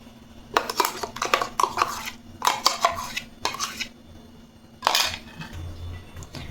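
Smooth banana paste for a cake is scraped out of a mixer jar into a bowl, with a run of loud metallic scrapes and clinks from a spoon against the jar.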